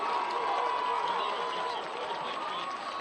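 Home crowd at a Northside high school football game roaring steadily after an interception, a dense, sustained wash of cheering and shouting that holds at full volume throughout.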